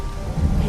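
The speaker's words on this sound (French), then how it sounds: "Je ne supporte plus cette pluie." Heavy rain pours steadily with a deep, swelling rumble of thunder underneath, a brief loud burst of stormy weather in a French audio drama.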